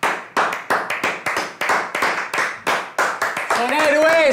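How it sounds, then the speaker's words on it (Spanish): Rapid rhythmic hand clapping, close and steady, with a voice rising over it near the end. "Es la hora de aplaudir a los astrónomos."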